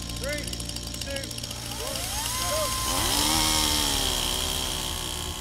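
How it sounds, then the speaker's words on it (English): A Greenworks 60V battery chainsaw and a petrol chainsaw roar and rev up, engine whine climbing and sustaining loudly as cutting into a solid oak sleeper begins, with a brief voice near the start. "each chainsaw has 60 seconds to make as many cuts as possible into our oak sleeper"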